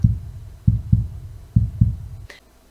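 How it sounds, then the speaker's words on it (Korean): A heartbeat sound effect pulses in steady lub-dub pairs, deep and close, five thumps in all, ending with a brief bright chime; no speech. "심장이 정말 두근두근 하면서 가슴이 너무 설레는 거예요"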